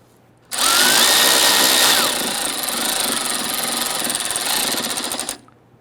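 A power tool drives Torx bit screws on a 1999-2004 Jeep Grand Cherokee 4.7L V8, whirring loudly in a burst that pitches down, then continues buzzing steadily before cutting off, with no talk.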